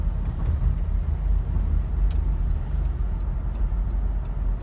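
A car driving along a snowy road fills the cabin with a steady, loud low rumble of engine and tyre noise. A few faint ticks sit above it and no one speaks.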